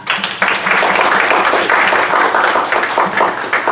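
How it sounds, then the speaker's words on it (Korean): A church congregation at a special gathering claps in a brief, close, energetic burst of applause. The clapping is steady and dense from start to finish, with no talking. "우리를 부르신 주께 감사의 박수를 드립니다"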